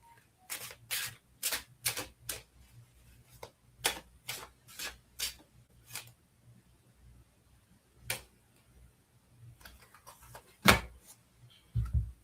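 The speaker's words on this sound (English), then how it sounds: "I need to shuffle one more time." A tarot card deck being shuffled by hand: a series of crisp, close riffling snaps in an uneven rhythm, with a few scattered softer shuffles and taps later, quiet overall with faint room hum beneath.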